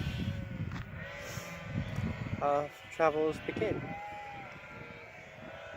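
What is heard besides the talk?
sheep bleating on a farm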